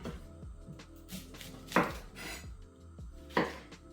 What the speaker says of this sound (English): chopping our onion now